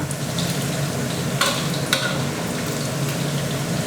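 Pork with garlic frying in oil on a stove over low heat, a steady close sizzle that holds through the whole stretch, with a couple of brief sharper crackles and no voices.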